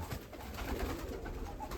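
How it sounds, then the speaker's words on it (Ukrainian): Domestic pigeons coo softly and repeatedly over a steady background rumble, the low calls blending into a continuous murmur. "Зараз піднімемо голубів"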